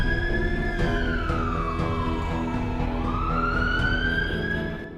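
An ambulance siren wails loud and close, one long tone sweeping slowly down and then back up, continuous with no talking.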